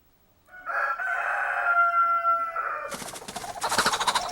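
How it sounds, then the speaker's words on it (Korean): On a mountain farm at night, a rooster crows loudly nearby, followed by a burst of frantic, harsh chicken squawks and flapping-like noise as a leopard cat attacks. "삭의 기습 공격에 닭은 반항도 제대로 못한다"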